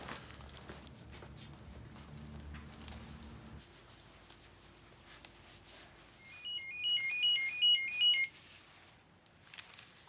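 A phone rings during an evening call, a short electronic ringtone melody chirping clearly for a couple of seconds in a quiet room after some faint footsteps and shuffling.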